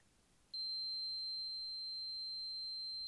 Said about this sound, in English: if you set the alarm threshold to a certain point and it hits that alarm and exceeds that alarm threshold, then you will just get an audible warning